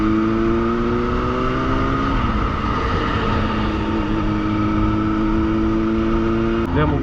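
Motorcycles accelerating on a road to overtake a tractor, the near engine drone rising in pitch and revving continuously, with steady road and wind noise throughout.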